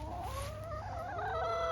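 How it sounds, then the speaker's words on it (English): Backyard chickens giving soft clucks and short calls, close by, over steady low background noise, with no talk. "And of course we have chickens."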